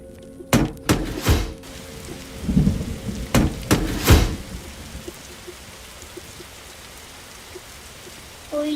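Thunder from lightning strikes in a video game, heard as several loud booming cracks over the first half, under a steady wash of rain that continues after the thunder stops.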